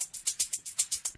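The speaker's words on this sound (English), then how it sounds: "This is shaker number 18 from the Daydreamer pack." Shaker number 18 from the Daydreamer sample pack plays a steady, even pattern of bright, hissy shakes, about eight strokes in just over a second, crisp and alone.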